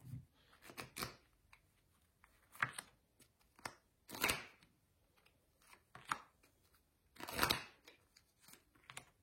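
Cards from an oracle deck being shuffled and drawn by hand, a close series of quiet, uneven snaps, flicks and soft rustles with brief pauses between them.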